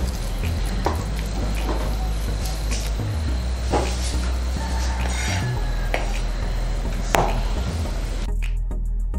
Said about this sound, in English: Now I'm gonna scoop it up into a bowl.